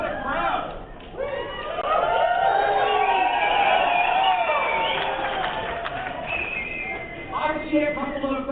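A rally crowd of a couple of thousand people in a Calgary room cheering for Jason Kenney as he takes the stage, heard from a played recording: sustained, muffled shouting and cheering with voices rising above it throughout.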